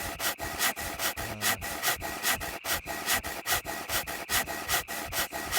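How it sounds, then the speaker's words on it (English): Logs being sawn with a hand saw in the survival video game SCUM: steady back-and-forth rasping strokes of the blade through wood, repeating rhythmically at close range with no speech over them. "It's because I'm sawing all these logs, Ginger."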